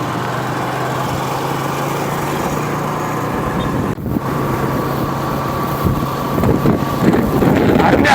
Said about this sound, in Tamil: காற்று தான் கொஞ்சம் ஓரம் அடிக்கி.